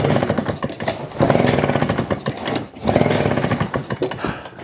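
Husqvarna 150 BT leaf blower, choke on and said to bog, being pull-started: loud rhythmic rattling bursts of a small two-stroke engine that sputters and surges unevenly, close by.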